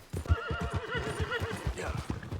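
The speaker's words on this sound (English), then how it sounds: "Mano, meu cavalo vai cair aqui, não vai?" A horse in Red Dead Redemption 2 whinnies loudly and close by, a long wavering neigh that starts with snorting pulses and trails off, with hoof clops mixed in.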